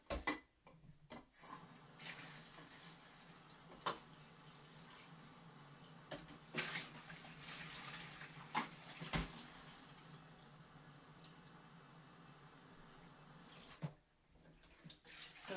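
Tap water runs steadily from a homemade hose attached to a kitchen sink, rinsing black and white film negatives, a continuous wash with a few brief knocks and clatters and no talking.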